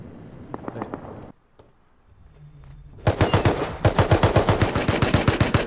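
Video game gunfire with an MP5 submachine gun cracks out as a few scattered shots, then after a brief lull a long, loud rapid-fire automatic burst.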